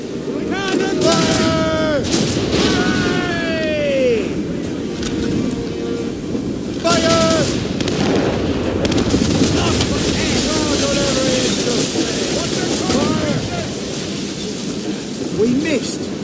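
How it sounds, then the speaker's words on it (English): Booming ship cannon blasts in the video game Assassin's Creed Rogue go off repeatedly over a roaring, crackling background, with shouted voices and whistling tones scattered throughout. "Cannon fire!"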